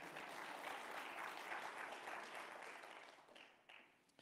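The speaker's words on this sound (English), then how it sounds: "Yes, that's a good clap." Town hall audience clapping, a dense burst of applause that swells briefly and then fades out over a few seconds, fairly distant and soft.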